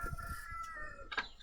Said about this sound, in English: My roosters are having a crow off right now.